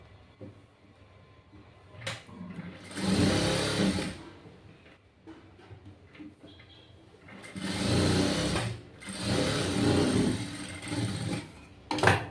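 A sewing machine stitches through layered blouse fabric in two loud, close bursts of rapid, whirring stitching, with quieter handling noise between runs and no talking.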